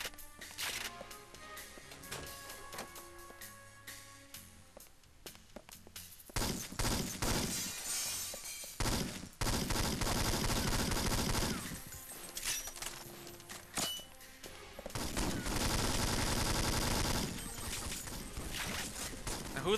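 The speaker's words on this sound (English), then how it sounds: "What the hell are you firing at?" Gunfire bursts during a firefight in the video game James Bond 007: Nightfire. Loud shots and sharp crashes come in dense clusters over a quieter stretch of game sound, with pauses in between.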